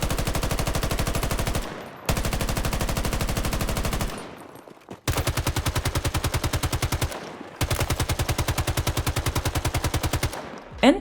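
Rapid automatic gunfire from M5A3 and RM68 rifles in Battlefield 2042, four sustained full-auto bursts of evenly spaced sharp shots separated by brief pauses, loud and close.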